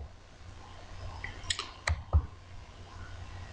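A few sharp computer mouse clicks, close and quiet, spaced irregularly over a low steady room hum while adjusting a dose in A1cManager diabetes software.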